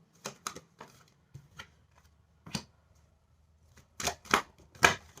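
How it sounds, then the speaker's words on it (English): Tarot angel cards are shuffled and handled in short separate bursts, a few soft riffles and then louder, crisper flicks near the end, close and quiet between them. "I actually want to get some more angel cards"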